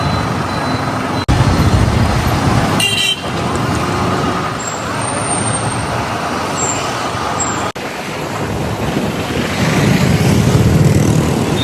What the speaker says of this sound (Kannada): Full traffic.